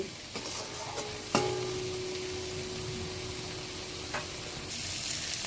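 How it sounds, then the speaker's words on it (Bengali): Green tomato chutney sizzles softly in a pan while a utensil stirs and scrapes, with a sharp metallic clink early on and a low, steady frying hiss underneath. "ভালো করে কষিয়ে নেব"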